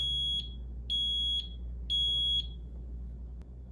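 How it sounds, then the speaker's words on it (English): An SL-2000 duct smoke detector set off by a test magnet sounds its alarm: three identical high electronic beeps, each about half a second long, evenly spaced and steady, loud and close over a low background hum. "Place it on top of the smoke detector head, and after a few seconds it will go into alarm."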